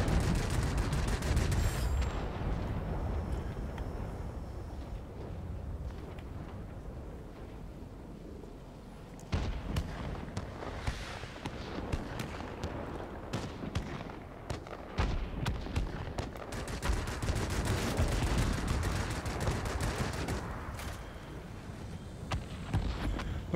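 Aircraft guns firing in World of Warplanes, dense rapid bursts of gunfire over a droning engine, with long sustained volleys and short gaps, loud and close.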